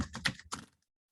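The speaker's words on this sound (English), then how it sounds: "Now I'm going to give the cards a quick shuffle." Tarot cards are given a quick shuffle: a soft, close flurry of papery clicks and rustles that lasts under a second, then silence.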